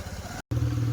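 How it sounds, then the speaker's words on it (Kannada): A motorbike engine idles with a low, steady hum. A short silent gap cuts through it, then the engine returns louder and close by. "ನನ್ನ ತಮ್ಮ ಬೈಕ್ ಸ್ಟಾರ್ಟ್ ಮಾಡಿದ್ದಾನೆ"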